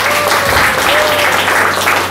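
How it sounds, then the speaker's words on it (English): A hall audience at a college freshers day gives a burst of loud, close, dense clapping that holds steady for a couple of seconds, with a faint voice in the mix. "So please, one big clap for them"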